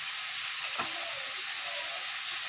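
Eggs and soybeans fry lightly in a pan, giving a continuous loud, close sizzling hiss with a brief scrape or stir early on, with no talk.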